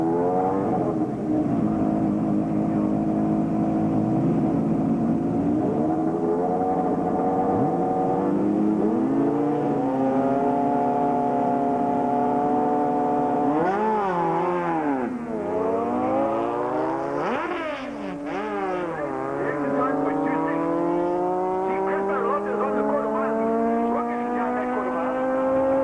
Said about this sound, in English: Crystal Lotta driving a big, mean mother bike.